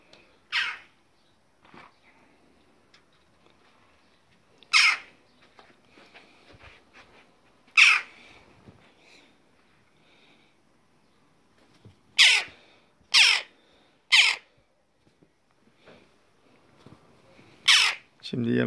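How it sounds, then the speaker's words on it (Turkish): A young crow caws in sharp, separate bursts near the microphone, scattered across a quiet background, with a few calls coming in quick succession toward the end. "Bizim karga acıkmış şimdi. İçeri girmek istiyor."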